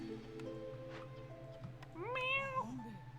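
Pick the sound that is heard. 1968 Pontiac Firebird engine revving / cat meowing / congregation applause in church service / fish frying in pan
cat meowing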